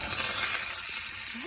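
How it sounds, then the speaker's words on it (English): Corn kernels frying in hot oil in a pan for a taco corn stew, a loud, dense sizzle that fades slightly over time, with no voice over it. "Then we're going to add our corn"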